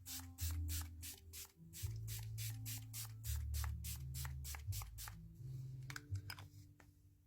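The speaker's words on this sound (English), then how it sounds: "And I'm going to spray my face. And I'm using a Milani setting spray." Milani setting spray misted onto a face in a long run of quick, evenly spaced pump spritzes, close and crisp, with short pauses near the end and no talking.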